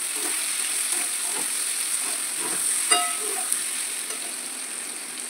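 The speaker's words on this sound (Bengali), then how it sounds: "এই আদারটার ফ্লেভারটা এর সাথে গরম তেলের সঙ্গে ভাজা ভাজা হতে থাকবে" Chopped ginger frying in hot oil with chilli powder, a steady close sizzle and crackle running throughout with a few sharper pops near the middle, no voices.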